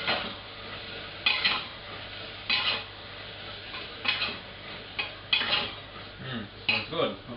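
A spoon stirs a kichidi mixture of rice and masala in a pot, giving repeated scraping and clinking bursts against the pot at an irregular pace, fairly close and moderately quiet.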